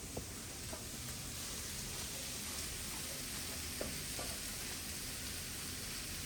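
Onions and chorizo fry together in a pan, giving a soft, steady sizzle throughout. A few faint clicks of stirring break through the sizzle, and no one speaks.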